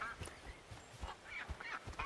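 Goose honking in the video game Where Winds Meet, a few short nasal honks repeating in an uneven rhythm, moderately close and fairly quiet, with no voices over it.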